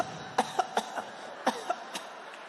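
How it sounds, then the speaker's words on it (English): A series of short, sharp coughs in an irregular rhythm, fairly faint and slightly distant, with no speech. "you'd hear them coughing on the other side"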